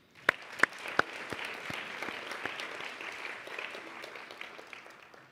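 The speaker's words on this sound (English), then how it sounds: "I think we can offer another round of applause" Steady audience applause for panel speakers taking their seats at an Asia-Pacific International Women's Day commemoration, a few sharp claps standing out at the start before the dense, even clapping continues at moderate volume.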